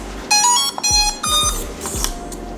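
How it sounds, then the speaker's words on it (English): Loud, piercing electronic beeps from an Ameta S20 Lite drone remote controller at startup, a series of harsh tonal bleeps in several bursts, close and alone. "the beeping that is within the speakers is just so ear-piercingly loud that it's really annoying"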